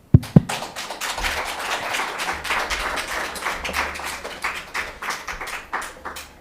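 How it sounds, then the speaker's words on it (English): Scattered clapping from a small seminar audience, opening with a couple of sharp claps and then settling into steady, moderate applause. "Applause for Ding."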